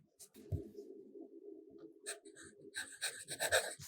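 A broad-nib fountain pen writes on paper with Sailor ink, giving faint, close scratchy strokes: one long steady stroke followed by a quick series of short scribbles.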